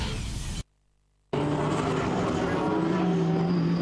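GT race cars, including McLarens, run slowly behind the safety car at Rockingham after a first-lap accident, their engines droning loud and close. A brief cut to near silence breaks in, then a rising engine hum continues.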